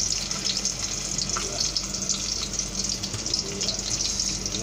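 Chopped onions sizzle in hot oil in a pan for chicken adobo, a steady, close crackling hiss that continues throughout with small pops and no speech.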